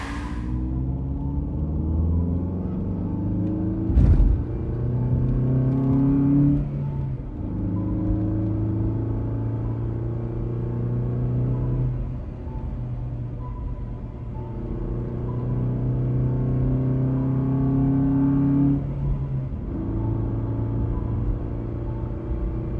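A car driving and revving: a loud engine rumble that repeatedly climbs through rising revs, drops back and climbs again, with a sharp thump near the start.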